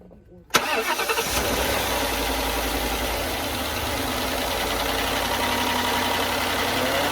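A 2023 Chevrolet Equinox engine cranks and catches with a sharp burst after a high-pressure fuel pump repair, then settles into a steady, even idle that runs loud and close throughout.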